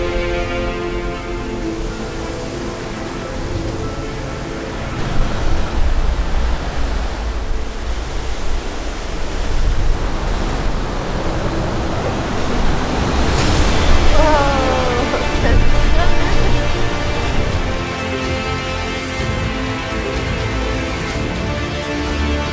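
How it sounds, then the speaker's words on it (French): Ocean waves surge and splash through a blowhole on the coast of Maui, Hawaii, with a constant heavy rush of water and spray swelling in bursts over about twenty seconds. "le blowhole faisait vraiment des splashs"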